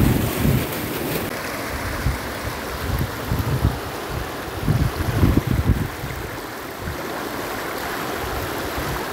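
Cool stream water rushes and swirls steadily beneath a tree canopy at a bathing spot, making a continuous broadband roar with gusty, buffeting surges close to the microphone and no speech.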